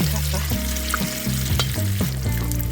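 Steady crackling sizzle of fat rendering in a pot for bograch, continuous popping and frying with occasional stirring scrapes, close and fairly loud.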